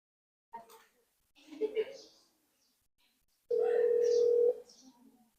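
A steady telephone dial tone sounds for about a second during a call placed from a computer to a mobile phone, preceded by short bursts of speech and faint electronic noises.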